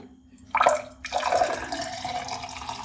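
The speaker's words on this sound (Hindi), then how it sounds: "अब ये जो पानी बचा था ना, अब इसको हम यहाँ पे डालते हैं, आपने छान लेना है।" Leftover water from boiled mangoes poured out and strained for a juice, two splashy pours in quick succession settling into a steady trickle, close and moderately loud with no talk.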